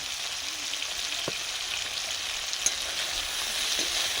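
Mustard paste and onion sizzle in hot oil in a pan with fried drumsticks, a soft, steady crackle with a few faint stirring clicks.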